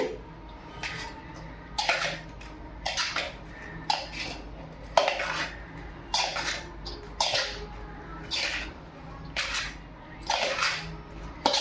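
A ladle scrapes and knocks against a pan while a sweet prasadam mixture is stirred, giving repeated metallic clanks at an uneven rhythm with a low background hum.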